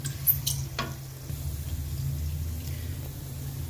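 Asafoetida hits hot oil for tuvar kachori filling, giving a sharp sizzle and a few crackles at the start that settle into a steady frying hiss alongside faint stirring.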